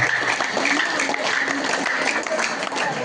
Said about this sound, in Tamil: அந்த ஆசிரியர்களுக்கு நாம் அனைவரின் சார்பாக நல்ல ஒரு பலத்தை ஒரு கைத்தட்டு நம்ம தெரிவிப்போம்